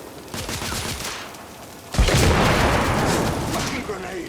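A grenade bursts in a gunfight in The Order 1886, a sudden loud boom about halfway through that swells into a dense roar of blasts and gunfire over the preceding battle noise.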